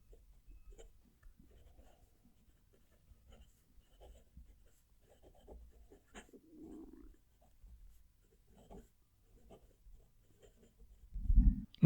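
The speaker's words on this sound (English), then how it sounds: "I'm going to move the mic down to the page and hopefully write a whole sentence." A Moonman/Majohn fountain pen writing a sentence on paper, heard as faint, close scratchy strokes in short bursts with pauses, ending in a brief louder thump.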